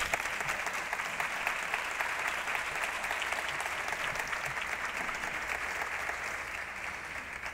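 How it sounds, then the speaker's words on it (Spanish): A crowd applauds basketball coach Sergio Scariolo at a talk on sports talent management, a steady, even wash of many hands clapping at moderate distance for several seconds, easing slightly at the end. "Pido un aplauso para Sergio Scariolo."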